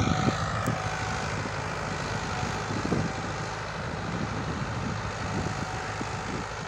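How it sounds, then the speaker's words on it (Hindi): A Mahindra 575 XP Plus tractor with power steering and 14-inch tyres pulling a nine-tine cultivator through a field, its diesel engine a loud, continuous rumbling drone with steady clattering from the implement. "भाइयों एक महिंद्रा 575 एक्टिव प्लस चल लिया है,"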